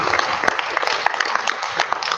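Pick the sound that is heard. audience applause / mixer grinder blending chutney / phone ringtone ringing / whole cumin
audience applause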